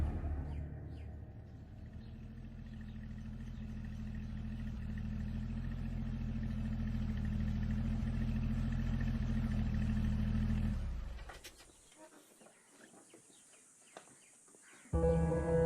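A car is driven out, its engine a steady low rumble building and holding for about ten seconds before cutting away to near silence, with faint birdsong and a brief burst at the end.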